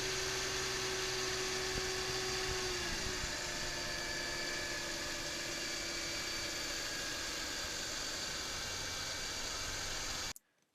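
A 2003 Mercedes CLK320 engine idles steadily after a cold start with a low, even rumble and a faint whine, then cuts off abruptly near the end.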